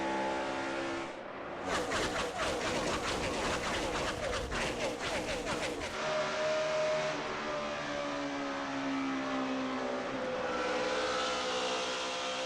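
A field of NASCAR race cars accelerates at a restart during a Texas Cup race. A loud, sustained roar of many engines rises in pitch, with a dense burst of overlapping revs and a commentator talking beneath.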